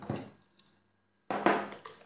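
A spoon or whisk works a liquid mixture into flour, sugar and yeast in a large bowl for madeleine batter, giving short scraping, clinking strokes with a brief pause between bursts.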